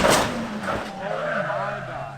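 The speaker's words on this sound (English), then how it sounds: "Listen to the throttle." The engine of an off-road Nissan R32 GTR lifting off the throttle on a jump: a loud revving drone falls steadily in pitch as the throttle closes, with a gritty rush of tire and air noise underneath.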